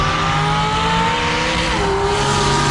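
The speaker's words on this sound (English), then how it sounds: "just done a burnout." Race car engine roaring loud and steady at a Sydney roll racing event, right after a burnout, with a sustained high-revving drone and faint tire noise throughout.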